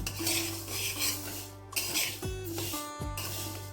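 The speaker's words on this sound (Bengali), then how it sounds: "ডালটাকে শুকনো খোলায় একটু নাড়িয়ে নিতে হবে যতক্ষণ না এর থেকে সুন্দর একটা গন্ধ বেরোয়" Uncooked moong dal is stirred as it dry-roasts in a pan without oil, giving faint, intermittent scraping and rattling of the grains and spatula against the pan over a low steady hum.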